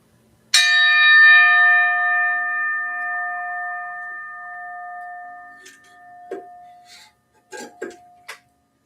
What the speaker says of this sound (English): This is my fair warning that I'm ringing the bell.